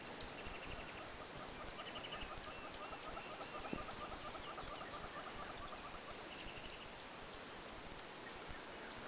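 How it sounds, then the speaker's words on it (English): A pietmevrou, a common garden bird around Pretoria, calls in repeated series of short whistled notes, faint and distant over a constant hiss of insects. "there you hear what we call the pietmevrou. It's a very domestic bird."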